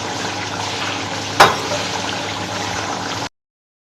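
Minced keema with peas fries in a pan after ground garam masala goes in, a steady close sizzle broken by one brief sharp clatter, then cut off abruptly.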